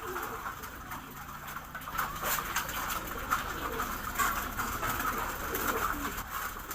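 German Beauty Homer racing pigeons coo softly in a loft, low repeated murmurs with faint wing and foot patter, steady and close throughout.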